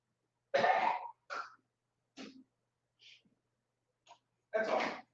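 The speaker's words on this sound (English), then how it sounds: "I'm just gonna walk over here and clear my throat." Several separate throat-clearing bursts and coughs, close by, with short silences between them; a louder harsh burst opens and another closes the sequence.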